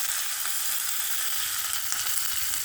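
Mustard seeds, green chillies and curry leaves sizzle in hot oil as tempering for ash gourd sambar, a steady bright hiss with small pops, close and continuous.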